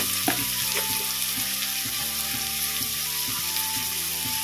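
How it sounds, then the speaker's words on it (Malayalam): Chopped ingredients sautéing in a pan for kothu porotta, a loud constant sizzle with a regular low tapping rhythm beneath it, close up and without speech. "ഇത് നന്നായിട്ടൊന്ന് വഴറ്റിയെടുക്കുക"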